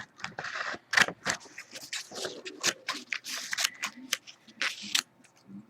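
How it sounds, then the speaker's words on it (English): Scissors snip through paper for miniature dollhouse chips in a string of crisp, irregular cuts, close by and fairly quiet, with light rustling between snips. "we're going to take a pair of scissors"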